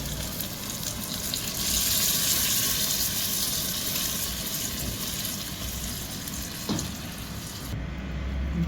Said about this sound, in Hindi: सारी हम दाल ऐड कर देते हैं।